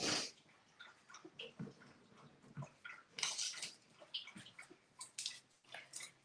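A dog laps water from a bowl up close, rapid wet slurps and splashes in irregular bursts, fairly quiet and without talking.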